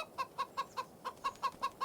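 Chickens clucking in the farming game Farming Simulator 25, a regular series of about nine short, evenly spaced clucks, fairly quiet and alone.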